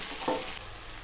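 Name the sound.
okra sautéing with salt in a pan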